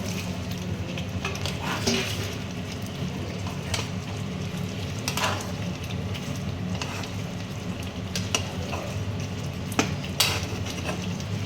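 Prawns cooking in a spiced pan give off a steady, even sizzle, broken by occasional soft scrapes and clinks of stirring, and no voice is heard.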